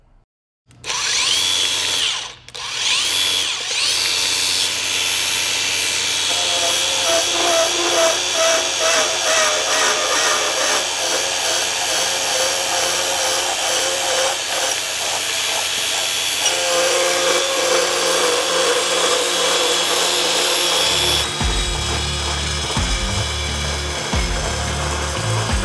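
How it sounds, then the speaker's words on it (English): A Tri Tool tube saw runs continuously and loud while cutting pipe, a steady grinding machine whine throughout, with a deeper rumbling change near the end of the cut. "then we'll clip it in, plunge, and then we'll turn all the way around to our cut"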